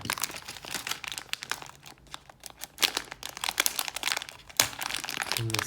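Lego packaging is opened, giving close, busy plastic crinkling and rustling with occasional sharp tearing bursts, continuous for several seconds with no speech.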